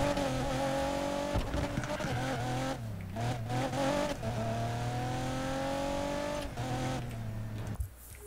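A car engine in Need for Speed Payback roars and revs up and down through gear shifts, loud and close, with brief dips and tire squeal between bursts and no talk over it.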